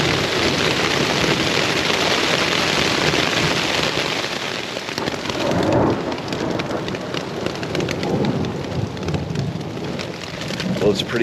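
Heavy rain drums steadily on a tent at a forest camp through the night, with dense, unbroken hiss and occasional low rumbles of thunder rolling beneath the downpour.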